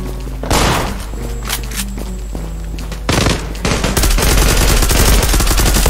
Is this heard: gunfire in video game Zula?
yes